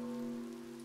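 Steady in-game rain patter in the Spirittea village life sim, layered under a sustained tonal background melody, moderately quiet and continuous for under a second.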